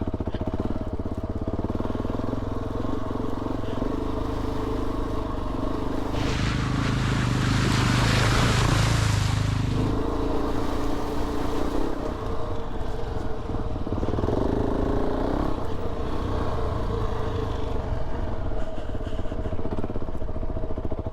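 KTM 690 Enduro motorcycle ridden through deep water on a Colorado trail, its engine droning steadily with a loud surge and sloshing splash in the middle before settling back to a running engine.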